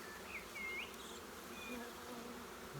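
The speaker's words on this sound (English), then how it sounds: "It's always a bit interesting when you get that buzzing in your ear." Honey bees from a swarm buzz right beside the ear inside a beekeeping veil, making thin, wavering whines that come and go over a soft background hum, with no speech.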